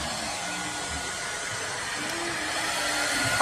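A hair dryer blows hair in a steady, loud, continuous whoosh that stays constant throughout and swells slightly toward the end, with no talking.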